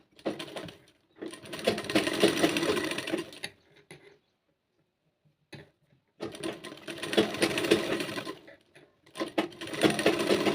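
A sewing machine stitches a kanchli blouse along a curved, notched edge. It runs in close, rapid whirring bursts of a few seconds each, separated by silent pauses.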